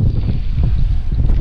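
Strong wind buffeting the microphone at a seaside fishing spot, a loud, continuous low rumble with no voices.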